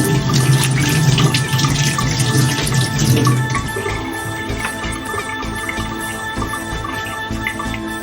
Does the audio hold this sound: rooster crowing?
no